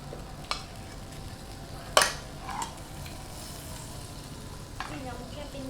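Quiet, steady sizzling of an egg frying in margarine in a pan, broken by a few clinks and scrapes of a utensil against the pan.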